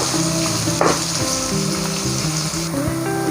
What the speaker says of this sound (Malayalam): സവാള അല്പം ഉപ്പൊക്കെ ചേർത്ത് നന്നായിട്ട് തന്നെ അങ്ങ് വഴറ്റിയെടുക്കാം